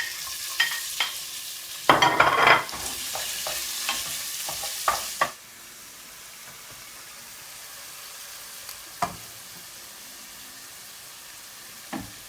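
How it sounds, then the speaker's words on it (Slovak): Chicken pieces sizzle in heated olive oil while being stirred for a spinach risotto, with a loud burst of scraping and frying in the first seconds, then a quieter steady sizzle and occasional utensil clicks. "Na rozohriatý olivový olej si pridáme kuracie mäsko a trochu si ho restujeme."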